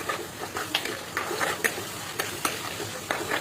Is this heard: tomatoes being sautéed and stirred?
yes